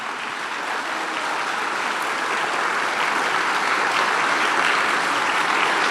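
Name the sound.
congregation applauding in church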